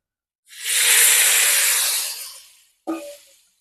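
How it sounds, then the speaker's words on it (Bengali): Cauliflower florets hit hot oil with a loud, close hiss that swells and fades over about two seconds, followed by a short second sizzling burst. "এবার চলো এই ফুলকপিগুলো ভেজে নেবো তেলের মধ্যে দিয়ে আগে।"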